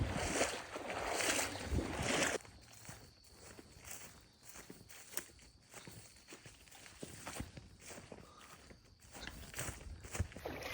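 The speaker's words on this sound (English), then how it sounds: "It's all very swampy, pretty much just walking in water" Footsteps wade knee-deep through swamp water on the Florida Trail, rhythmic sloshing and splashing strides, close and steady, with a louder burst of churning water at the start.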